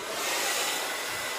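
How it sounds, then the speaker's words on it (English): A blow dryer blows hair powder out of dark hair, a steady, close, broadband airy whoosh running the full length without any talk. "you can use the blow dryer"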